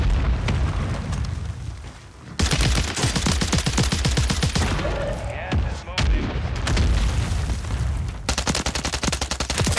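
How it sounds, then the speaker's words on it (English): Mortar strikes in the online shooter Warzone 3, a dense barrage of booming blasts and rapid gunfire rattling almost nonstop, loud and close, with a brief lull before the explosions resume. "he's just got mortar strikes everywhere"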